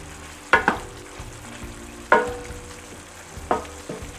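A bursted cherry tomato sauce with black pepper simmers in a pan while a spoon stirs it, three distinct scraping clinks a second or so apart over a soft, low bubbling sizzle, close and moderately quiet.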